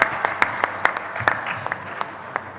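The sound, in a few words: applause for East Zone team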